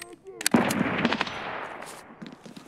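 A short, loud burst of automatic gunfire from MAI AP 7.62 rounds in Escape from Tarkov, sharp cracks running together into a rolling echo that fades over about two seconds.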